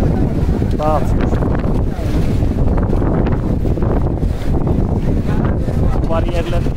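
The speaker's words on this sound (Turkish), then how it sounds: "otellerin arasındaki boşluklardan rüzgar içeriye giriyor" Strong wind blowing between hotels in Mecca buffets and rumbles against the microphone in a constant loud roar, with a few faint voices and whistles in the distance.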